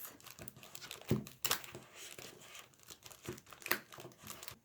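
Adhesive tape is pulled and wound tightly around a handmade musical instrument, giving a run of crinkly tearing and rustling bursts with irregular louder rips, close to the mic and with no talking.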